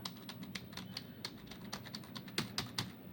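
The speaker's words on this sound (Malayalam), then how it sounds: "ഇനി നമുക്ക് ഇവിടെ ഒന്ന് ടൈപ്പ് ചെയ്ത് നോക്കി വെക്കാമല്ലോ" Quick keystrokes on a computer keyboard while working in Excel, a soft, fairly close run of light clicks in an irregular rhythm, with a few firmer taps toward the end.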